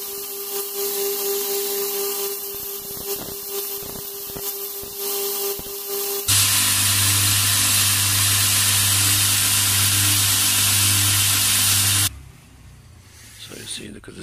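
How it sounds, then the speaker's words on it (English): Burner nozzle plate being ground on a belt grinder for a propane forge burner: a loud, steady broadband roar with a strong low hum runs unbroken for about six seconds, then cuts off abruptly. "I'm grinding it down on my belt grinder."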